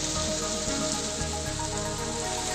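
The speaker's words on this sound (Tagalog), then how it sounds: "walang tigil na pagulan sa buong maghapon at magdamag" Nonstop heavy rain pours down continuously on the fourth day of a storm that has brought flooding, a dense, steady wash of falling water that holds at a constant level throughout, with no talking.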